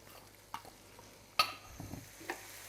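Chopped onion hits minced meat cooking in a pan, giving a soft sizzle and a few scraping stirs, with a sharp clatter in the middle; quiet and close, without speech.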